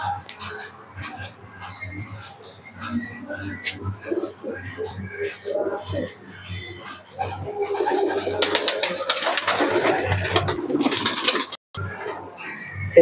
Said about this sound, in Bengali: এই এক জোড়া পায়রা দেখুন